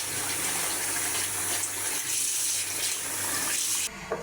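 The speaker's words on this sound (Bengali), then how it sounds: "মাংসটা ভালোভাবে ধুয়ে নিছি।" Beef is washed under a running tap, a steady, close gush of water hissing and splashing over the meat. The flow cuts off near the end, leaving a brief drip.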